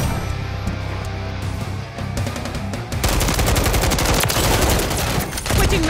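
Rapid automatic gunfire in a Call of Duty match, dense bursts of shots close and loud, picking up into a sustained barrage halfway through.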